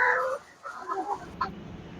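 Chickens in a poultry farm shed clucking in short, moderately close bursts, with a steady faint background din from the flock and no talking.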